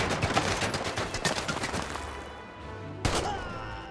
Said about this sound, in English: One shot with a pistol, but I missed every shot with a rifle